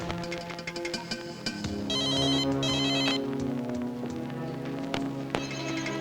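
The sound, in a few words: telephone ringing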